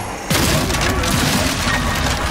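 In the Zombie Army 4 video game, a shrapnel explosion tears through a group of zombies with a sudden loud boom, then a dense crackling burst of debris that stays loud to the end.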